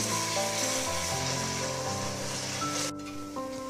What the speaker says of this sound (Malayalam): വെളുത്തുള്ളി, ഇഞ്ചി, പച്ചമുളക് പേസ്റ്റ് ഇതിലേക്ക് ചേർത്ത് കൊടുക്കാം